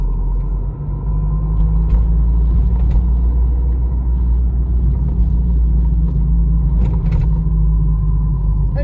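A car cabin rumbles with a steady low engine drone as the vehicle accelerates in the left lane on a driving-school lesson in Manisa, the shift into second gear blending into continuous road noise, with faint talk in the cab.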